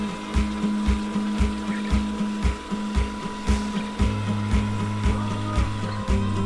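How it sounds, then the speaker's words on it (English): Popcorn machine motor spinning kernels and oil inside the kettle, a steady mechanical hum with a regular thumping pulse about twice per second, close and continuous. "turn on our motor, get that all spinning around"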